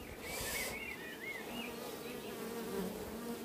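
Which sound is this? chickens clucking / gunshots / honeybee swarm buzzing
honeybee swarm buzzing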